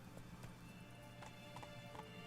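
Roach, a horse in The Witcher 3: Blood & Wine, trots with a steady run of clip-clopping hooves, close and continuous over faint background ambience.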